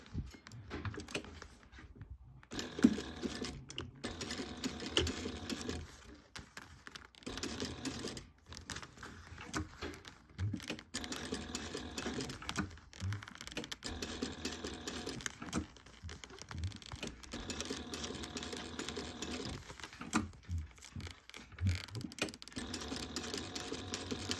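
A sewing machine stitches a bag's ear onto its gusset for a SPEW bag, a steady mechanical rattle running in bursts with brief pauses throughout, close and fairly loud with no talking.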